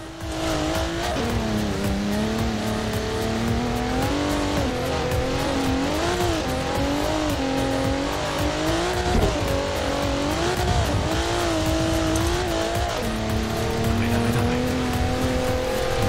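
A Forza Horizon 4 car engine drones loudly and steadily as it accelerates, its pitch rising and falling with gear changes and throttle, while tire noise runs underneath the whole time.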